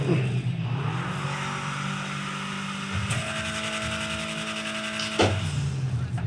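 A Nova with a Hemi engine idles after startup in GTA 5, a steady loud rumbling drone with a strong tonal hum and a brief sharp rev or burst partway through.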